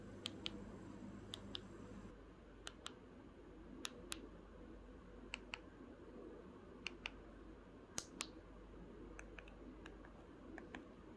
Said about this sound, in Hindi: क्लिकी और टेक्टाइल बटन है।